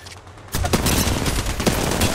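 A rapid fusillade of gunshots in Apex Legends bursts in after a brief quiet moment, dense and loud, close and continuous with no talk.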